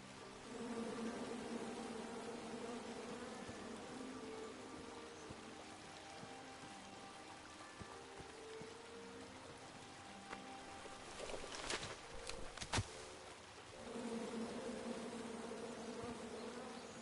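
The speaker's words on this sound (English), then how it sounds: "And then you chop down the tree full of angry bees?" Angry bees from a tree in the King's Quest game produce a steady, droning buzz that swells and fades, broken near the end by a few sharp clicks, with no voices.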